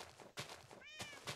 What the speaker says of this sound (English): hi kitty, I forgot about you.